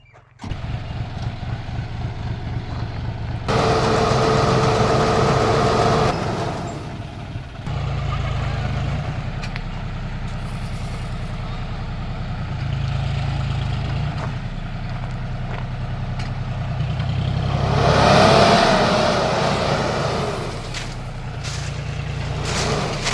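A heavy tractor engine rumbles steadily throughout as it sprays clay powder in a dragon fruit orchard, its low drone swelling louder at intervals, with no talking.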